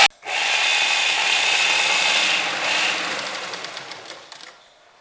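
A sewing machine stitches kurta fabric, starting abruptly and running as a steady close whir with rapid needle ticking, then slowing and fading to a stop near the end; no voices.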